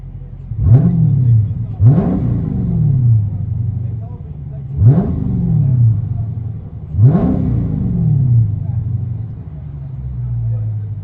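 A 2016 Dodge Challenger SRT 6.4L Shaker with dual Dynomax Bullet exhaust revs hard four times, each burst rising sharply then settling back to a deep, rumbling idle, close and loud.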